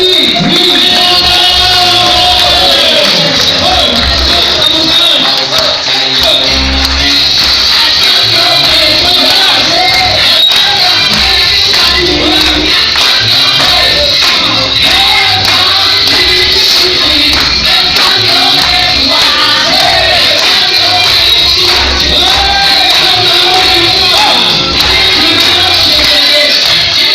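A large crowd at a motivational business event roars and whoops continuously, dense shouting and cheering filling the room at close, loud level throughout without a break.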